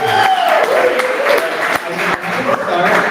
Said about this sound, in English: Huge round of applause for Alex.